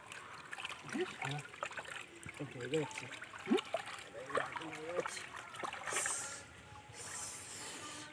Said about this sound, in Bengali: পুকুরে এনে ধোয়া হচ্ছে